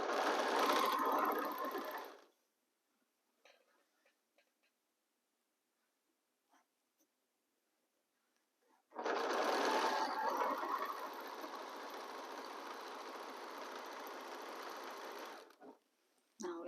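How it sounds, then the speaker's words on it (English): A sewing machine stitches two fabric pieces with a quarter-inch seam, running in two bursts, a short one then a longer steady whir after a quiet pause, close and alone. "We are going to join them using a 1/4 of an inch seam allowance."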